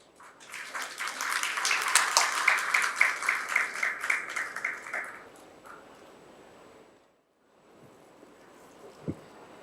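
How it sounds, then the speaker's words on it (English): Audience applause welcoming a speaker onto the stage at a strategy summit, a burst of many hands clapping that swells, holds for a few seconds, then fades into quiet room noise. "Let us please welcome Dr. Melita Mehezuddin on stage with a huge round of applause, everybody."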